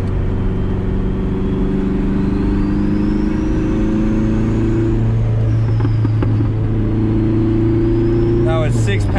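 A turbocharged Honda H22 engine in a third-generation Prelude drones loudly from inside the car, rising in pitch under throttle, easing off, then building again, with people talking in the cabin over it.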